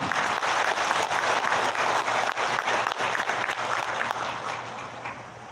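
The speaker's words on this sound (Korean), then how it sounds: "여러분 박수로 환영해 주시기 바랍니다." An audience at a senior employment programme rally in Korea applauds to welcome a speaker, with dense, sustained clapping from a large crowd that tapers off toward the end.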